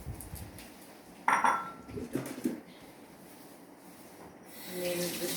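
Ziwi dog food gets mixed in a bowl with a few clinks and scrapes of a utensil against the dish, close up, then a quieter pause and some rising background noise.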